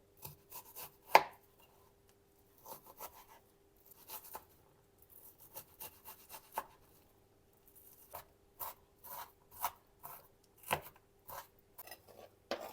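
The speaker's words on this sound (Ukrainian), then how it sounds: "Цибульку ріжу надрібно." An onion is chopped finely with a knife on a board: quiet, close bursts of quick taps come in short irregular clusters separated by silent pauses, with no talking.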